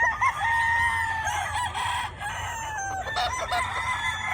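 A Gilmore Cross rooster crows loudly nearby, its stretched, wavering calls mixing with clucking from other fowl in a busy farmyard chorus.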